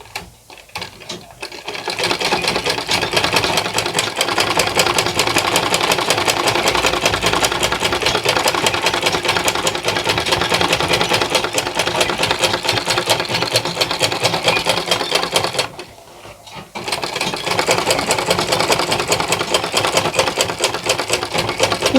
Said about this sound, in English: I'm going to turn this here and then top stitch so the pocket stays firm